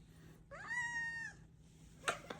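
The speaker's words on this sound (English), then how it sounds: "Say hi, kitty." A pet cat gives one clear, drawn-out meow at close range in a quiet room, followed by a couple of faint clicks.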